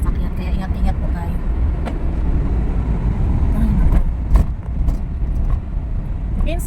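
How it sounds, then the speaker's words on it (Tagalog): A large vehicle rumbles past on a shortcut road away from the highway, a steady low engine drone that swells around the middle and then fades, with a brief rattle along the way. "Laki ng sasakyan, kaya ingat-ingat po tayo."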